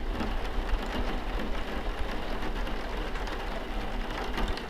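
Steady rain falling, a dense, even hiss of drops on surfaces with a low rumbling undertone, continuous and fairly loud with no voices.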